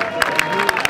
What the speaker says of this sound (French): Est-ce qu'on peut applaudir très fort pour la carrière, pour la vie